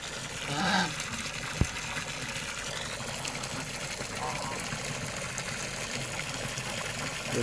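Water gushing steadily into a duck swimming pool in a village, a continuous broad rushing sound with a single sharp knock partway through and a brief voice at the start.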